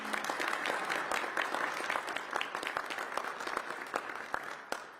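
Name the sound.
audience clapping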